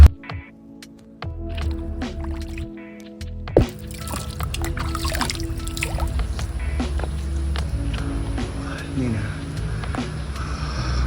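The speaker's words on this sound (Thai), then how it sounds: "อนุญาตล้างหน้า เพื่อเป็นสิริมงคลก่อนนะครับ" Someone washing their face with holy well water at a Thai temple: drips, splashes and wet squishing of water, close by, with someone talking over part of it.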